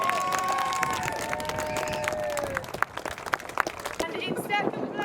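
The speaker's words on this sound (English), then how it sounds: "Massive round of applause for Martin Wallace!" Crowd applause and cheering at a Drift League GB 2023 round 3 podium ceremony, a steady dense clapping wash throughout with scattered whoops, while an announcer's voice carries over it early on.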